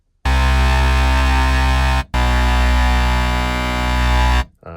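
A Sequential Pro 3 SE synthesizer with its output fed back into the mixer's external input produces a loud, sustained, harmonically dense distorted drone. It breaks once briefly, then resumes and cuts off.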